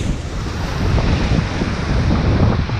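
Waves wash steadily onto a gravel beach on the Bruce Peninsula coastline near Stormhaven, mixed with strong wind buffeting the microphone in a loud, continuous roar.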